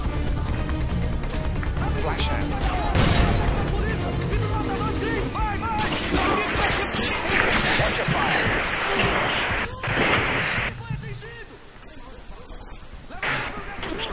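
Bursts of gunfire from the video game Modern Warfare 2 crackle through a tense firefight, shots scattered across the stretch at moderate loudness, mixed with game effects and players talking over the action.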